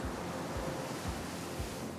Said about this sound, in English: the waves of the mighty Southern Ocean ceaselessly roll onto beaches or roar at the base of dramatic cliffs